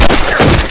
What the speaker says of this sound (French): Le coup de feu.